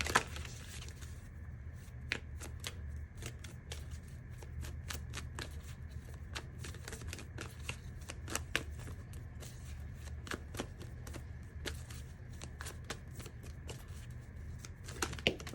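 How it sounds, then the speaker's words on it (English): Moonology oracle cards being shuffled and pulled, a steady run of soft riffling slaps and sharp flicks repeating close by over a low room hum, with no talking. "I forgot to pull a Moonology card for you, so let's pull that now."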